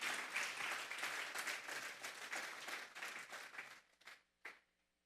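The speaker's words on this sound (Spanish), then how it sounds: "Vamos a darle una ofrenda de palmas a Dios en esta tarde." Church congregation clapping together at a Spanish-language service, a dense, lively burst of applause that thins out and ends with a few last isolated claps.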